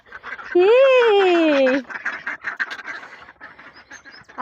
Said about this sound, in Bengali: ওরা আমার আওয়াজ শুনেই শুরু করে দিয়েছে প্যাক প্যাক করা